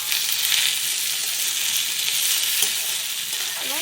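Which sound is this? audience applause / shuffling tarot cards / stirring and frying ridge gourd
stirring and frying ridge gourd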